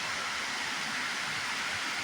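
Steady, dense rushing of a waterfall at Mill Creek Park in Youngstown, Ohio, a broad continuous roar with no other sounds on top.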